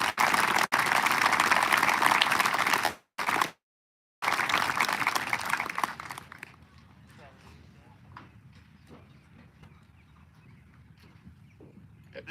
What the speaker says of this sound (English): Let's give another round of applause to all our scholarship winners.